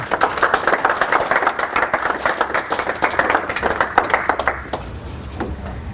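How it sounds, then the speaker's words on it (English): A crowd at a faith talk breaks into sustained applause, dense and loud, with many hands clapping for several seconds before thinning out near the end. "round of applause"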